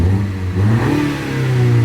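A 2021 BMW 128ti engine revs hard up close, rising and falling in a deep, rumbly growl with a steady loud drone and no talking.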